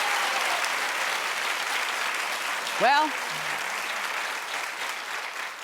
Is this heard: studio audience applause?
yes